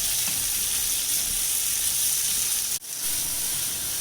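A shahi paneer mixture sizzles steadily in a pan over a high flame, a constant close hiss of frying with a brief dip near the end, no voices.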